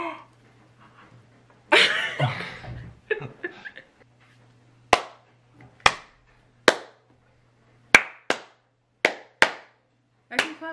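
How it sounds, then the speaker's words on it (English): Hand claps ring out one at a time, seven or eight sharp, loud strikes spaced roughly a second apart, following a stretch of casual talk and a loud exclamation. "I can clap louder than you."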